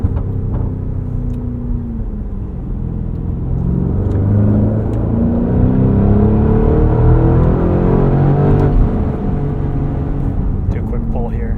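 Engine of a 2024 Porsche Cayenne Turbo E-Hybrid Coupe pulling hard on winter tires, a steady loud cabin rumble with rising whine as revs climb through gears, heard from inside during a spirited drive.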